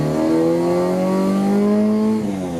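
A naturally aspirated Honda Civic with an H23A engine, on a street pull, revs hard toward its 8,000 rpm redline. The engine is loud and continuous, its pitch climbing steadily before a brief dip near the end.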